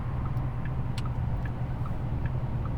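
Porsche Taycan electric car on a cool-off lap of a race track, giving a steady low road and motor hum with light intermittent ticks, continuous and close throughout.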